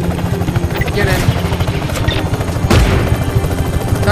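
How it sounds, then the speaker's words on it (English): A helicopter in the video game Just Cause 3 drones loudly with a rotor thump, mixed with booms and gunfire bursts. "need your helicopter. We're gonna fly."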